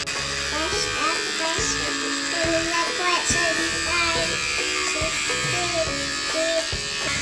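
Electric beard trimmer buzzing steadily throughout at close range while a father trims his beard at home with his young daughter, under near-constant talk between them.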